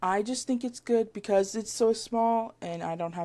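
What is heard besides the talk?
No distinct noise like a dog, phone or traffic.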